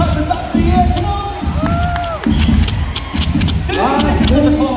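Crowd noise at a school netball game: spectators cheer and clap in a busy gym, with thumping footfalls and squeaking shoes, under a loud announcer talking over everything.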